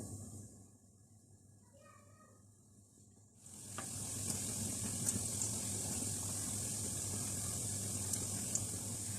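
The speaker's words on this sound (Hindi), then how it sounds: "हल्की आंच पर नमक पारों को फ्राई कर लेते हैं।" Namak pare fry in oil over a low flame, giving a steady, hissing sizzle that swells in after a quieter opening and then holds evenly, close and fairly soft.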